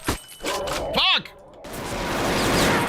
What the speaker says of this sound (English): Why would just you flashbang me?